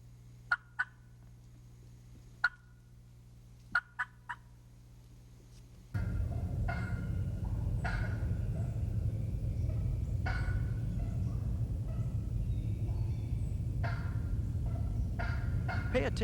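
A turkey hen gives sharp, scattered clucks in irregular rhythm, first over near silence, then continuing over a steady background rumble.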